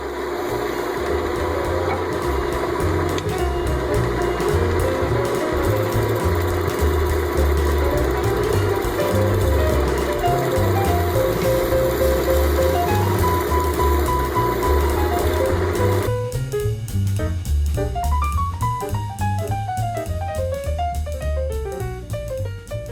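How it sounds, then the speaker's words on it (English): A tool shear scrapes a natural-edge silver maple bowl on a wood lathe, giving a continuous whirring hum with rising and falling scraping tones that changes character near the end. "Now I'm going to try to do some shear scraping on the bowl as much as I possibly can."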